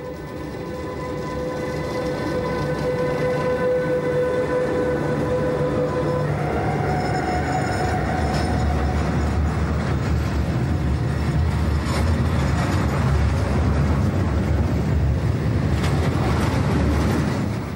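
Newly built class 145 electric freight locomotive of ArcelorMittal departing with its train, a steady rolling rumble with a fading motor whine and light rail clatter, fairly close and continuous with no talk.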